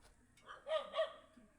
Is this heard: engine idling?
no